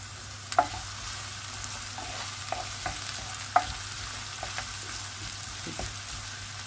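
Onions sautéing in a pan until turning pink, a soft steady sizzle with a couple of sharp utensil taps against the pan, quiet and close.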